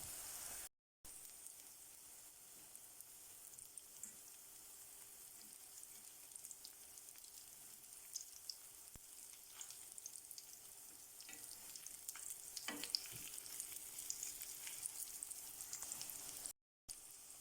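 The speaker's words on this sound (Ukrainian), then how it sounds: "Смажимо на середньому вогні до золотистого кольору." Quiet, steady sizzling of mushroom cutlets frying in oil over medium heat, with soft crackles and occasional pops throughout; no voices.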